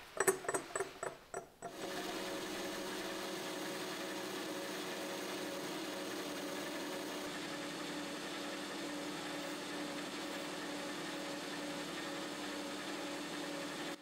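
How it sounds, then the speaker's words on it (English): A metal lathe takes a long continuous cut, a steady mechanical drone with a rattling, clicking start as chips break, then an even hum with no speech. "I've been taking these cuts for a while and the chip breaker is only working towards the end of the cut."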